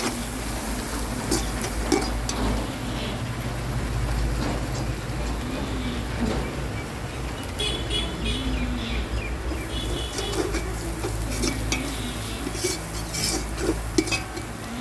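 Masala for chicken biryani is stirred in a pot on a rooftop, with scraping and clinking of a ladle against metal over a low, steady background rumble, occasional birdsong faintly audible.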